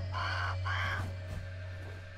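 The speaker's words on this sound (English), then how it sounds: "Go away, bird." A crow caws twice in the video game Grounded, clear harsh calls over a steady low in-game hum, with no talk.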